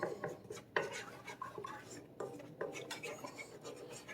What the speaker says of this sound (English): And you just keep stirring around.